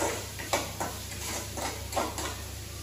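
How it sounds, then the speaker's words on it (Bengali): Potatoes with a pinch of chili powder frying in a pan on a home stove, with soft steady sizzle and several distinct scraping stirs at regular intervals, close by and with no talking. "কিছুক্ষণ এইভাবে ভেজে দেবো, তাহলে সেদ্ধ হয়ে যাবে"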